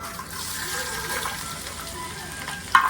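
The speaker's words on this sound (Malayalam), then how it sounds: "നമുക്ക് ഇതിലേക്ക് ഇഞ്ചിയും വെളുത്തുള്ളിയും അരിഞ്ഞത് ഇടാം" Chopped ginger and garlic frying in oil in a pot for chicken curry, a soft continuous sizzle at moderate distance with a sharp clink near the end.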